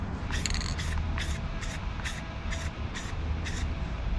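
A spray can coats a taped guitar headstock in a run of short hissing bursts, about eight quick sprays in four seconds over a low background rumble, close and fairly loud.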